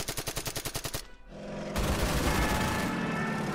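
Gunfire in the strategy war game Order of Battle begins with a rapid burst of about a dozen evenly spaced shots, then drops into a short lull before a heavy rumbling barrage that roars on loudly.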